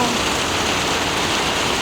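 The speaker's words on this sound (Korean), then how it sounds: "시원하게 빗소리도 좋고 비 내리는 풍경도 좋고" Steady rain pours down in a loud, even, constant hiss, heard alone without talk.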